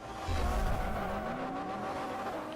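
A Lamborghini race car in a Forza Horizon street race roars steadily with a rising engine whine, close and loud, carrying through the whole moment without talking.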